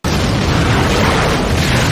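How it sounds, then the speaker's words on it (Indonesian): A car blows up in an action film, a loud, dense explosion roar that fills the whole moment with sustained rumbling debris and no voices. "sopir Kit tidak mampu melewati hingga meledak"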